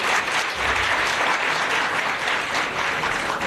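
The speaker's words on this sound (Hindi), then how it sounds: "इस बात पे सबसे ऊंची ताली बज रही है।" Loud, continuous clapping from a crowded audience at a Punjab internship program gathering, steady and enthusiastic across the whole stretch with no voices on top.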